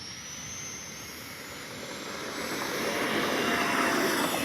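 Freewing A-4 Skyhawk 80mm electric ducted-fan RC jet flying overhead, a steady whooshing turbine-like whine that grows gradually louder and nearer over a few seconds, with no talking.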